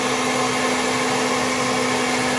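A heat gun blows steadily and loudly over a copper piece being restored with a patina, a constant whooshing roar with a fixed whine that runs unbroken from start to finish with no voices.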